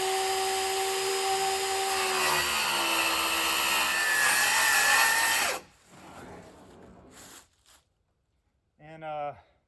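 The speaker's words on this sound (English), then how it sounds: "Lots of sawing to do." A power saw whines loudly and steadily while ripping wooden boards for a walk ramp, then cuts off abruptly and leaves a quieter rumble and a brief spoken voice near the end.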